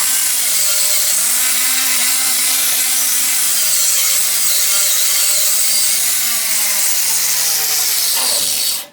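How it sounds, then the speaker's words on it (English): Grinder working a weld on cast iron, a loud continuous high whine with a wavering tone under it that holds for nearly the whole stretch, then cuts off abruptly at the end. "I'm going to need this grinder frequently"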